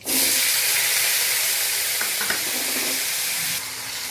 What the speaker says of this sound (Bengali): এবার এই তেলেই আমি আলুগুলোকে ভাজবো।